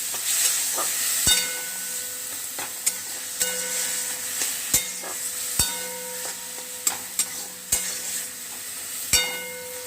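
Spinach frying in a pan with a steady sizzle and intermittent sharp clinks and scrapes of a utensil stirring, close and moderately loud, no voices.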